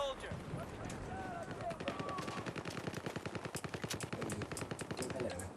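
Rapid automatic machine gun fire in Battlefield 4, with long rattling bursts of evenly spaced shots that grow denser toward the end, heard faintly and steadily, along with other game sounds.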